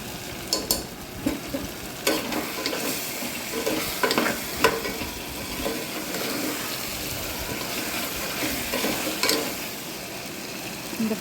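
Mutton fry being stirred with salt in a pan, with soft sizzling under irregular scraping and clinking strokes of a spoon against the pan, close and fairly quiet.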